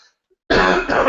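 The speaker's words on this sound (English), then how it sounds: "I'm going to have to cough." A single loud burst of throat clearing and coughing starts abruptly after a brief silence and continues close to the microphone.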